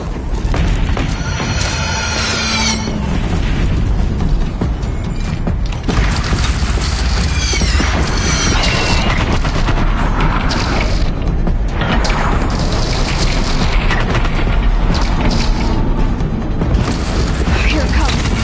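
Cannon fire in the video game Horizon Zero Dawn, loud heavy booms amid constant mechanical clanking and dense battle noise that fills the whole stretch.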